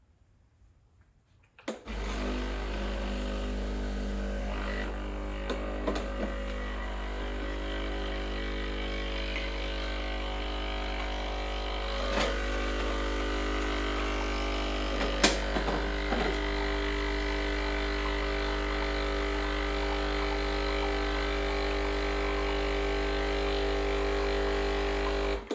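A Breville Barista Express BES870 espresso machine runs a blank two-cup shot with no coffee in the handle, starting abruptly into a loud, steady pump hum with a buzzing drone and a few faint clicks.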